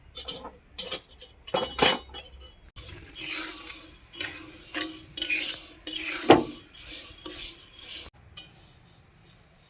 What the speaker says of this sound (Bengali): আমি ডালটাকে ভেজে নিচ্ছি।